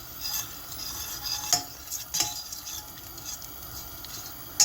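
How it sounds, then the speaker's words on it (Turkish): Pepper paste fries in a pan while a utensil stirs and scrapes it, giving a faint sizzle with a few sharp clinks of metal against the pan. "Şimdi salçamızı güzelce kavuruyoruz."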